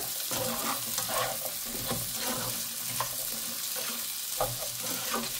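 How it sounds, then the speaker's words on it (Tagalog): Carrots and potatoes are stirred in a pot of chicken vegetable soup, giving a steady sizzle and bubbling with soft scraping stirs and occasional clinks, close and continuous with no talking. "Ngayon naman, ilagay natin ang ating carrots at ang potato. Mekas-mekas lang muna."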